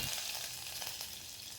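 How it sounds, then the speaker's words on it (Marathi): Cumin, mustard seeds and curry leaves crackle in hot oil in a pressure cooker, a quiet continuous sizzle dotted with small rapid pops, heard close with no talking. "त्यामध्ये जिरं, मोहरी, कढीपत्ता हे सर्व टाकून घ्यायचं आहे आणि छान तडतडून घ्यायचं आहे."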